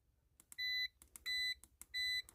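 Three short electronic beeps, evenly spaced with brief clicks between them, clear and close in a quiet setting.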